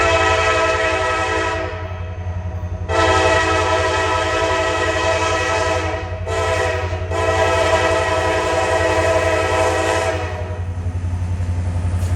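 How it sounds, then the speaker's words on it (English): An empty coal train's horn blares in long sustained blasts, near and loud, over the steady rumble of the passing train on the Big Sandy Subdivision in Kentucky. "This is the empty coal train from Russell,"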